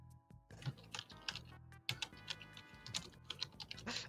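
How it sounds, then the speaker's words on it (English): Rapid, irregular clatter of typing on a computer keyboard, close and fairly loud, with bursts of keystrokes and short pauses, heard alone without talk. "I can hear you typing."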